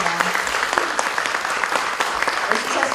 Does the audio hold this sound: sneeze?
no